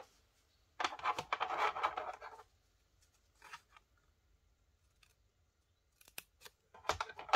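Scissors cutting paper while making a scrapbooking envelope, with a longer run of close, crisp snipping followed by a few short isolated cuts separated by near-silence.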